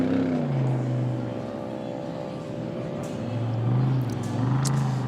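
Off-road unlimited race truck at the Mint 400 desert race, its engine running rough and misfiring with two cylinders dead, a steady loud drone with uneven pitch swells rising and falling over a few seconds.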